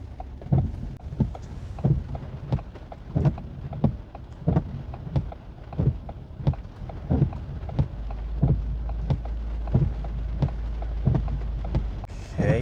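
A car drives through heavy rain on a roundabout, with water splashing against it from above. Soft thuds and splashes recur every second or so over a steady low hiss, moderately close.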